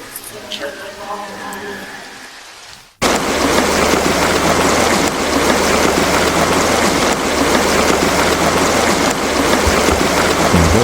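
After a few seconds of talking, heavy rain suddenly roars in, a loud steady downpour drumming on surfaces that continues unbroken.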